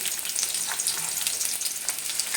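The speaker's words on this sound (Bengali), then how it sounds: "গরম মশলাটা ফুটে উঠলে কুচিয়ে রাখা পেঁয়াজটা দিয়ে দিলাম" Chopped onion hits hot oil with whole cardamom, cloves and cinnamon, giving a close, continuous crackling sizzle with a few stirring scrapes and no voices.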